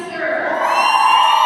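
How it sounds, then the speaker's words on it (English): A crowd at a varsity girls' hockey game, Jefferson versus Bemidji, roars after a goal, with loud, sustained cheering and yelling that builds steadily, close and dense. "Big cheer goes up from the crowd here."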